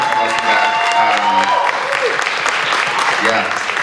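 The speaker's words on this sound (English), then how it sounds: "huge round of applause for Danny, huge round of applause for Matt." Warm crowd applause at a charity comedy-for-cancer show, a full room clapping steadily with some cheering, while a few faint voices sound beneath the clapping.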